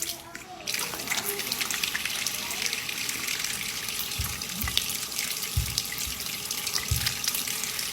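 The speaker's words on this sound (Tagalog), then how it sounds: "so maghihilamos na tayo" Tap water runs steadily into a sink during face washing, a constant close splashing hiss with a few low thuds of hands moving through the stream.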